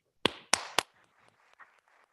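Three sharp, loud hand claps ring out at a county board meeting in quick succession, followed by a few faint scattered taps and room noise.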